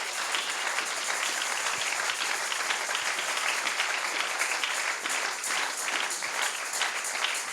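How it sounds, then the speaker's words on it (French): A church congregation applauds in a dense, sustained wash of clapping that holds steady and loud throughout, with a few faint voices mixed in. "tobetela yesu nkolo maboko."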